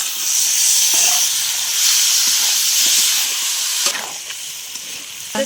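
Chicken skin sizzles and hisses steadily in a hot pan with Kashmiri red chilli powder for a cabbage dish, a loud, continuous frying roar that eases slightly after a brief stir partway through.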